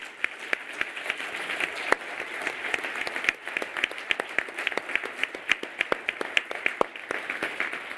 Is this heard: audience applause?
yes